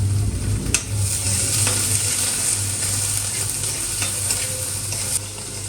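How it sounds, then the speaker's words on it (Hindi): Peas and onions fry with a steady sizzle in a pan while a spoon stirs them, scraping and clinking intermittently; close, continuous and without talk. "थोड़े से प्याज होने के बाद ही मैं मटर डालती हूँ दोस्तों, टमाटर से पहले"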